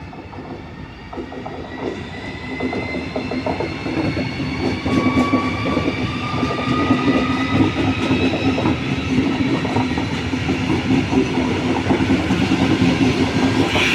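A train moves through Padova railway station in the evening, loud and close, with steady rolling wheel noise and clickety-clack over the rails, plus faint squealing tones drifting above, sustained for the whole stretch.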